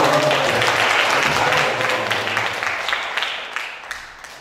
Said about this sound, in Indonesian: Kasih tepuk tangan dulu dong Mbak Lia.